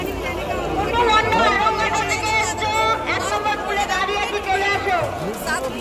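Dense crowd hubbub at the Maha Kumbh gathering in Prayagraj, a loud, continuous wash of many overlapping voices with a public-address speaker running through it, steady and close throughout.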